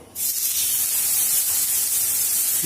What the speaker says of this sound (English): that sizzle is what you need